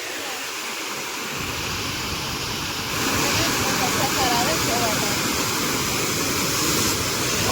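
Water rushes steadily at an overflowing village dam in Gujarat, a loud, broad continuous roar that swells after a few seconds and fills the whole clip, with voices faintly beneath it.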